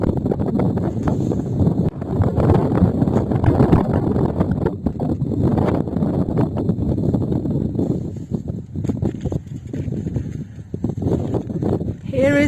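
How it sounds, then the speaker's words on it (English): Strong gusty wind on a mountain peak at 2,150 meters buffeting the microphone in loud, rumbling blasts that rise and fall throughout, with no clear voices. "Look how windy it is up here."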